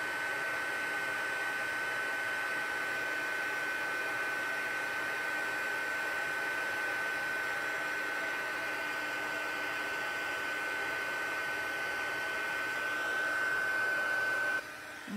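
A heat embossing tool blows steadily on a stamped thank-you card, a constant loud whirring hiss lasting throughout with no pauses, ending abruptly.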